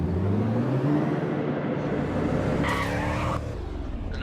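Bugatti Chiron from 2016 in the City Car Driving game, engine roaring steadily loud as it accelerates along a freeway, with a brief tire-squeal-like screech near the end and no talking.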